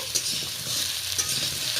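Sweet potato, potato and pointed gourd fry in a little ghee in a pan. A steady close sizzle carries faint stirring scrapes, with no one talking.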